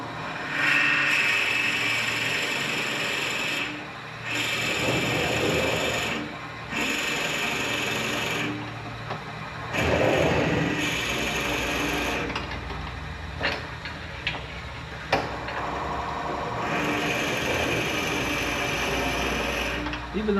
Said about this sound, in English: And let's drill it. Drill her out.